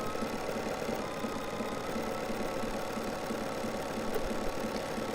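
A Bernina 780 sewing machine stitches with a steady, rapid, rhythmic mechanical whir and a fine pulsing chatter, close and continuous throughout, with no speech.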